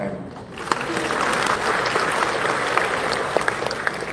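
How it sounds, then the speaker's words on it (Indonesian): Audience applause breaks out after a call to clap for the Catholic Family Ministry couples at a church talk, a dense, steady wash of many hands clapping that swells in after a brief quieter moment and holds throughout. "Tepuk tangan untuk CFM"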